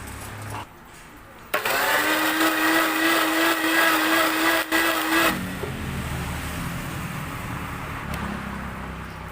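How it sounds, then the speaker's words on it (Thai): A kitchen blender blends boiled mushrooms with thin coconut milk for a vegetarian Thai mushroom curry sauce, giving a loud, steady motorized whir of about four seconds that stops abruptly and leaves a quiet room. "ใส่หางกะทินะคะ เดี๋ยวเราไปปั่นกระชายกันนะใช้หางกะทินะปั่นค่ะ"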